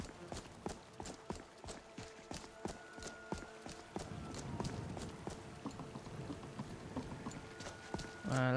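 Hooves of a horse in the modded Skyrim Anniversary Edition video game clop in a brisk, regular rhythm, fairly quiet and steady, with faint game ambience and a louder sound near the end.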